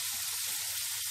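Potato pieces fry in hot oil in a pan, giving a constant bright sizzle at a steady level with no pauses.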